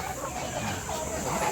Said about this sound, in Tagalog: Nakakaibang manok yan.